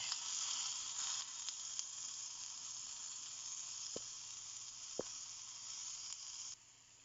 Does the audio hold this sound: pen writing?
no